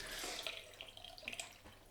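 Tap water runs steadily into a sink during a wet shave, a close, continuous splashing hiss with no talk over it.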